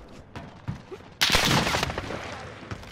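Sniper and gunfire bursts in a video game, a dense loud volley of shots erupting abruptly for about half a second amid quieter clicks and thuds.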